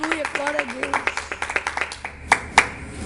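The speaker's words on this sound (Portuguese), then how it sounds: "Uma salva de palmas para Jesus Cristo." A church congregation breaks into a short round of rhythmic clapping, close and fairly loud, with a voice speaking over it and a couple of sharper, louder claps near the end.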